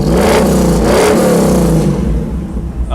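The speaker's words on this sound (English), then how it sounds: "Listen to the exhaust." A 1956 Ford panel truck revs hard close by, its exhaust giving a deep, loud roar that surges, then eases off into a rumbling idle.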